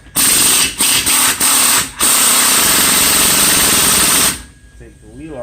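A power tool, likely an impact wrench, buzzes loud and close while removing the wheel of a Nissan car, in several short bursts followed by a long sustained run that cuts off abruptly.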